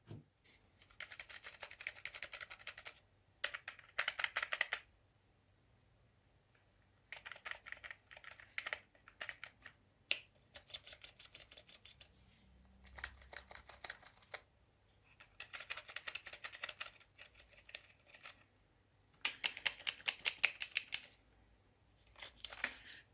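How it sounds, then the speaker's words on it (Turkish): Bursts of rapid key clicks from a cheap Piranha 2345 RGB gaming keyboard come in several separate runs with quiet pauses between them, close and crisp, with no talking. "Sizlere bir de klavyenin tuş seslerini dinleteyim."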